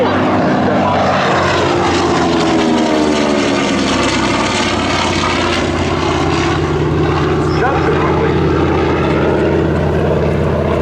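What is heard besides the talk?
TBM Avenger propeller bomber flying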